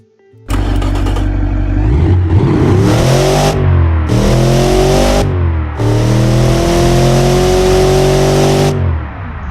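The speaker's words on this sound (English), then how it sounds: "those cone filters, they made the engine scream when you hit a high RPM" A Ford car engine fitted with a K&N cone-filter cold air intake starts and revs hard several times, each rev rising to a loud roaring whine then dropping back, close and aggressive.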